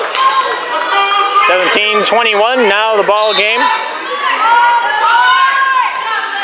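A crowd at a school volleyball game cheers and rumbles in a gym, steady and loud throughout, with a voice speaking over the noise in the middle.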